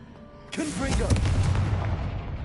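A Confringo fire spell blasts out in Hogwarts Legacy, a sudden loud burst that swells into a rumbling, crackling roar sustained for a couple of seconds, with a spoken voice underneath.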